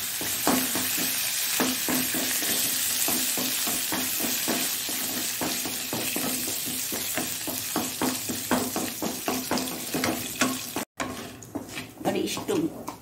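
Urad dal and curry leaves fry in hot oil in a pan for a Mangalorean mango curry, a loud continuous sizzle broken by steady rhythmic scrapes of a spatula being stirred, close up, with a brief pause near the end.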